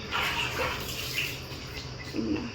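Water poured from a mug during a child's bath at home, a close, continuous splashing gush with a few heavier splashes, no talking.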